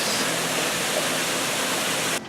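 Waterfalls at Rock City Gardens on Lookout Mountain give a continuous broad rushing roar, steady and fairly loud throughout, dropping off abruptly at the very end.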